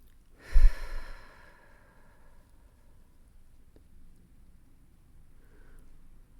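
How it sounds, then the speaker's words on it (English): A single deep breath, a loud exhale-like sigh near the start, then fading into quiet room tone for the rest of the clip. "Take a deep breath. I need a deep breath."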